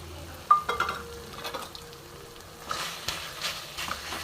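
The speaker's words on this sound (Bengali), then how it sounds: "এবার এর সঙ্গেই আবার ভালো মতন একটু রান্না করে নেব, সুন্দর করে মিশিয়ে আর কিছুক্ষণ রান্না করে নেব" Spoon stirs and scrapes boiled mashed potato into chicken mince cooking in oil in a pan, with soft sizzling, a few clinks against the pan and intermittent scraping strokes.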